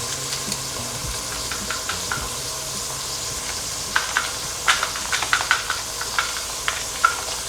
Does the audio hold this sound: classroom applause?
no